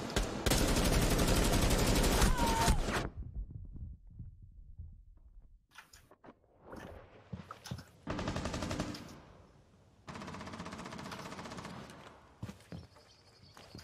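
Gunfire in Rainbow Six Siege comes as a loud, sustained burst at the start, then muffled bursts and thumps at a distance.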